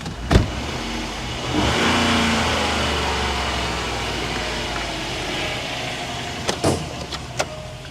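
Range Rover engine revving inside a garage, a sustained throaty rise held for several seconds after a few sharp knocks, then clicks and taps as it settles, with no talk.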